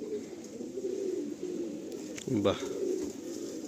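Madrasi pigeons coo in a steady low warble, with a brief sharper call partway through and a person speaking briefly nearby.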